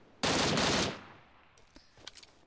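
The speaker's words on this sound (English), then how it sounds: "I'm going to push them with 12 rounds in an M16 right now" An M16 rifle fires a fast, loud burst of automatic gunfire in PUBG Mobile, lasting under a second, followed by a few faint clicks and small mechanical sounds.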